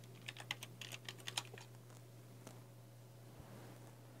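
Fast bursts of typing on a computer keyboard at a Windows 10 PC with an Intel Celeron chip, a quick run of crisp key clicks in the first second and a half, then a few isolated taps over a faint steady hum.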